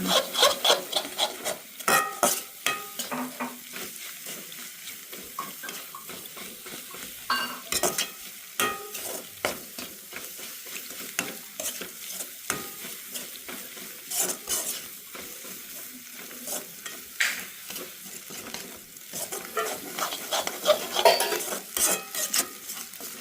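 Food is stirred and mixed in a sizzling frying pan, a spatula repeatedly scraping and knocking against the metal in an uneven rhythm over a low frying hiss, close and fairly loud with no speech.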